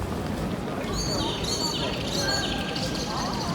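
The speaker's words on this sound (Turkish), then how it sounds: "Ya kuş sesleri çok tatlı." Faint bird chirps and tweets scattered over steady outdoor street noise at Schillerplatz in Stuttgart, Germany, the calls thin and high, set back in the distance.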